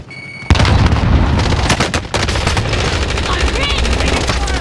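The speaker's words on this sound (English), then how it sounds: "Throwing grenade!" Battle royale video game combat: a grenade throw and then sustained loud gunfire, with rapid automatic bursts and heavy booms packed densely over several seconds, close and continuous, with in-game callouts mixed in.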